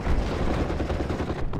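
Mortar blasts and gunfire from the WWII strategy game Steel Division: Normandy 44, a dense continuous rumble of explosions and shooting that stays loud throughout with no clear gaps, heard alone without talk.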